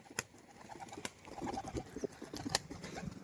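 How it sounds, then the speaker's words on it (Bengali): A small female pigeon with white eyes and feathered feet coos softly at close range, a few low murmuring calls with light fluttering and patter mixed in. "ছোট্ট একটা পায়রা, মাদি পায়রা, এটা আমার ঘরেরই পায়রা ছিল"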